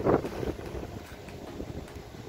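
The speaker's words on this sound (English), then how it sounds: "It's a little bit windy up here today" Steady wind rushing and buffeting across an open outdoor microphone, a gusty roar that stays fairly constant with a stronger puff at the start.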